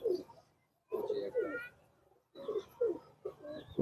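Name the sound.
pigeon cooing in a loft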